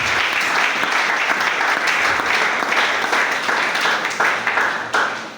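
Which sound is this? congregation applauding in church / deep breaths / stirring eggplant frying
congregation applauding in church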